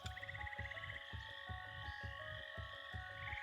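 A frog croaks in a steady rhythm, about seven low pulsing croaks close by, with faint high tonal sounds behind them and no voices.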